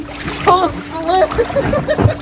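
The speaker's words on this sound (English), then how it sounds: "Now we splash around, bro." Someone splashes around in an Ooze Baff slime bath, with wet sloshing and splattering through most of the moment while young voices talk and react over it.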